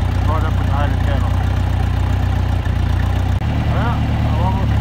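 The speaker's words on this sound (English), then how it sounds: "I'm ready to park the tractor there." A farm tractor's engine runs steadily at close range on a cattle pasture, a loud low chugging drone with a brief dip partway, while someone talks over it.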